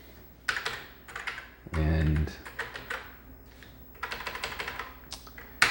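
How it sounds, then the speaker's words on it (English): Typing on the original keyboard of a restored Commodore SX-64, close bursts of rapid clacky keystrokes with brief pauses and a heavier thump between them, while someone speaks briefly. "this is the original keyboard that came with this computer that we just restored"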